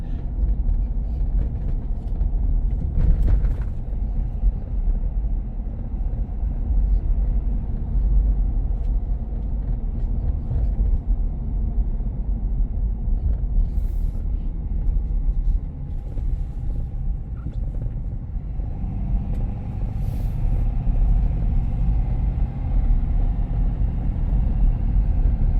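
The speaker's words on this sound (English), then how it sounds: "Really bumpy road." A lifted 2025 Ford F-250 Lariat rolls over a bumpy road, its deep engine and road rumble steady and close inside the cab with occasional light knocks.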